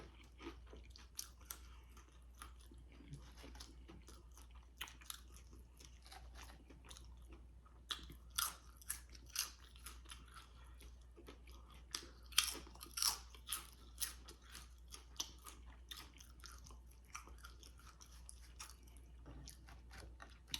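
Repeated crunchy bites and wet chewing of a Scooby Doo sandwich during a mukbang, close to the mic with irregular crisp peaks over a low steady hum, no talking.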